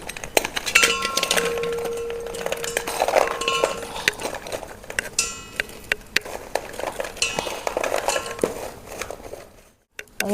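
Figs going into hot ghee in a pan, with metal spoon clinks and scraping against the pan over a soft sizzle, irregular knocks and stirring close up, ending in a brief silence.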